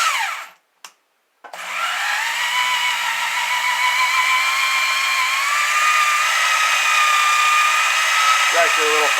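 A drill spins an AMMCO pin hone for Farmall M rod bushings, its trigger clamped with vice grips. A couple of brief starts come first, then a loud, steady whine runs continuously at a slightly wavering pitch before it cuts off.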